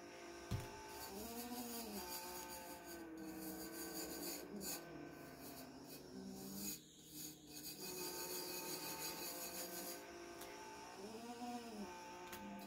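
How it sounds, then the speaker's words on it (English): A tumbler cup turner motor runs nonstop with a grinding, rasping whir and a droning hum that swells and dips in a slow repeating cycle. It plays on its own with no talking. "I know it's loud. I'd like to feel like I'm not the only one with a very loud turner."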